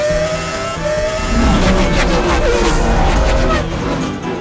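Race cars from the Cars animated films hitting the asphalt during a derby race, a loud, continuous roar of engines that swells midway, with a dense, busy mix of motor noise.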